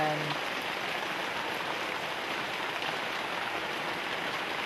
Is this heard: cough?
no